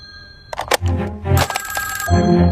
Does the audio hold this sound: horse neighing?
no